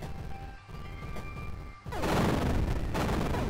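Explosions in the game Axiom Verge: after a stretch of tonal game music, a dense, rumbling wash of blast noise suddenly cuts in and holds steadily to the end.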